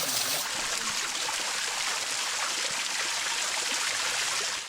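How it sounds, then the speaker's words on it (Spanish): A small waterfall at the bottom of the Barranca del Coyote on the Volcán de Fuego de Colima gives off a constant close rush of splashing water with no break. "Llegamos a esta cascadita en el fondo de la barranca del Coyote"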